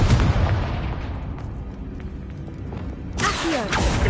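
A Confringo fire spell blast from the Hogwarts Legacy video game, heard as a loud booming burst that rumbles and fades, followed by a second crackling burst near the end.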